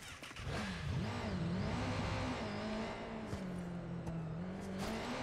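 A motorbike engine in the video game Watch Dogs 2 drones steadily and loudly, its pitch rising and falling as it revs, with a few faint knocks underneath.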